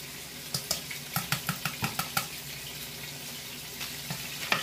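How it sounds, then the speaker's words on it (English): Garlic-flavored olive oil being stirred in a pan, with a run of soft, rhythmic scraping strokes over a steady low sizzle, then a few scattered taps near the end; close and fairly quiet, no talking. "And stir it together."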